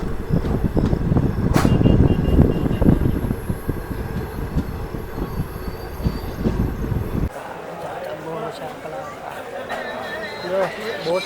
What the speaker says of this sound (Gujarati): 8:05 ટ્રેન ઉપડી ગઈ છે.